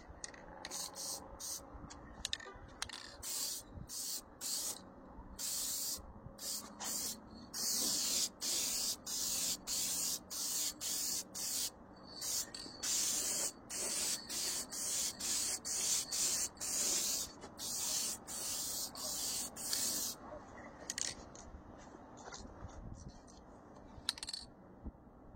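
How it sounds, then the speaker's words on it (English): Kimball Midwest clear gloss spraying from an aerosol can in a long run of short, bright hissing bursts with brief gaps between them, close and steady. "some Kimball Midwest clear gloss. That's what I'm going to spray it with."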